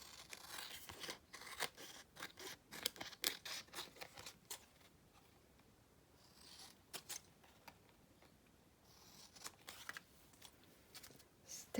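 Scissors snip through the edge of a collage paper tag in quick, close, quiet cuts, a burst of crisp snips, a short pause, then more irregular snipping and paper rustle.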